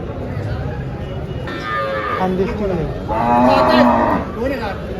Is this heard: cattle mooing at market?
yes